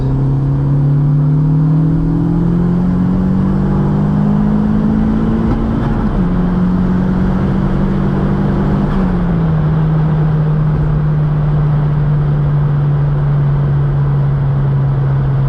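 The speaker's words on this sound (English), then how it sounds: "that re-spool is night and day difference" A Volkswagen/Audi 1.8-litre turbocharged four-cylinder heard from inside the car, a steady loud engine drone rising in pitch as it revs, then dropping and settling back as the turbo re-spools, with no talking.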